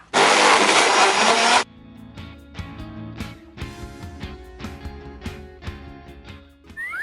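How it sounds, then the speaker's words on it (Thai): An electric blender whirs loud and steady for about a second and a half while blending a pastel milk drink, then stops, leaving quieter clinks and knocks of handling. "ไม่ใส่อะไรเพิ ่มแล้วนะปั่นได้เลยค่ะ"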